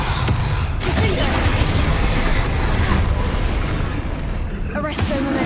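Confringo blasting spell from Hogwarts Legacy, loud repeated booming blasts amid a dense, continuous battle din, close and heavy, with spoken voices running over the noise.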